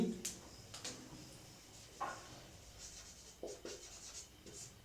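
Chalk or marker scratching across a classroom board during a Hindi lecture on poetics, faint, intermittent strokes and taps with a quiet room hum and no talk.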